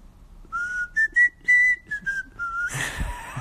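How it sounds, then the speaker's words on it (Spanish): A person whistles with a closed mouth in a steady, clear tone, sliding between a few pitches in short phrases. A soft rustle follows at the end. "Mira, silbo así."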